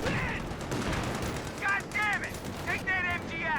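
Rapid machine gun bursts and scattered gunfire in the Company of Heroes 2 strategy game, a busy battle mix with repeated volleys and whistling sounds, steady and fairly loud.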